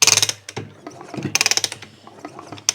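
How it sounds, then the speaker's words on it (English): Hand-turned engine of a 1985 Honda ATC 250R, giving rapid ratcheting clicks and mechanical clatter in close bursts, pausing briefly between turns. "I just want to rotate that engine a couple times"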